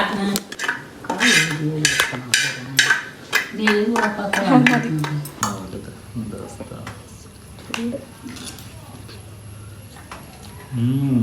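Maggi noodles being stirred together with scrambled egg in a pan, metal utensil clinks and scraping against the pan under a woman's speech throughout.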